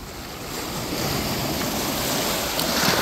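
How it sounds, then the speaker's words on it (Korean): Ocean waves wash onto Jungni Beach at night, a broad, continuous surf rush that swells slightly louder toward the end, with some wind noise and no voices. "파도야, 파도야, 길을 터라."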